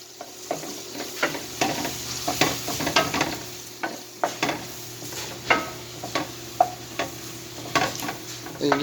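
Beef gravy for biscuits and gravy is stirred in a pan, with a spoon scraping the bottom in repeated irregular strokes over a soft, steady sizzle, close up and without speech.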